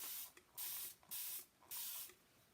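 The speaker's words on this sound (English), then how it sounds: "Give it a spray." A hand spray bottle misting a paint inlay hisses in four quick, even bursts with short gaps between them, close and crisp in a quiet room.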